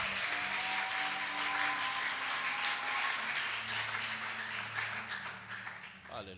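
A church congregation applauding in praise of the Lord, sustained even clapping across the hall with a sung or voiced tone above it, fading slightly near the end.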